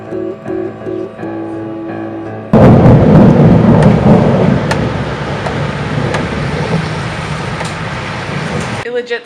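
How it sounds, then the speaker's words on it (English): Thunder rumbles during a passing storm in Strasbourg, a sudden loud, deep roll that breaks in after a quieter stretch and sustains for several seconds before cutting off. "It legit started thundering"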